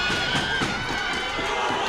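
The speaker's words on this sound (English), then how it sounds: "The crowd is going absolutely mental here" A crowd at a boxing match cheers and shouts loudly and continuously, a dense roar of many voices with no pauses.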